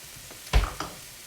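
Bacon frying in a pan gives a short burst of sizzling that quickly fades to a low crackle.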